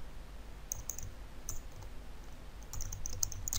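Soft, scattered key clicks from typing a search into the Google Chrome browser on a computer keyboard, faint and irregular against a quiet background.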